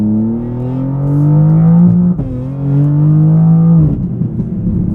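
A 2024 BMW G87 M2 drag build with wide open exhaust revs loud and close, climbing steadily through the gears with a sharp break at each upshift and a raspy, crackling tone as it settles near the end.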